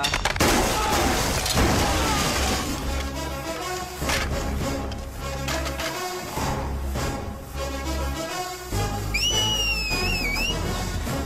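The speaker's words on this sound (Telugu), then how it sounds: "విజిలేస్తున్నావు." A person whistles in a movie scene: a loud two-tone whistle near the end rises and wavers, following a busy stretch of dramatic film music, booms and impacts.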